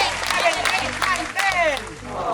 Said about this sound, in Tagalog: bigyan na 10 palakpak